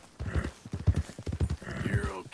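Horse hooves clip-clop at a steady walking pace in the Red Dead Redemption II video game, soft and fairly close, while someone talks over the steps.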